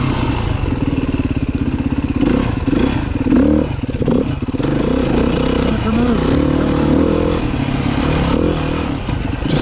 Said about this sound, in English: but the bike was on point with the revs up